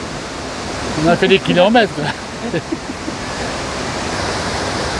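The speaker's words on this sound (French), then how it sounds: "Regardez ça, les cascades d'El Marmor" The Marmore waterfalls in Italy, swollen by a water release, send up a broad, steady roar that fills the whole clip, with a person talking briefly over it near the start.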